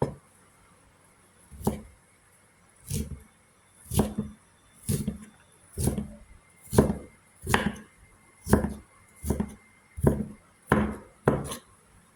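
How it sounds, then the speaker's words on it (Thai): A kitchen knife dices food into cubes on a cutting board for a Thai rice porridge with minced pork and dried shrimp. About a dozen firm, evenly spaced chops land roughly one per second, close and clear, with no talking. "บางคนก็หั่นยาวๆเนาะอย่างร้านเขาก็หั่นยาวๆแต่เราจะ ชอบ หั่นแบบลูกเต๋าค่ะ"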